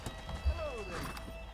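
A horse in the Red Dead Redemption video game gives a short whinny and a few hoof clops, fairly quiet, with speech around it.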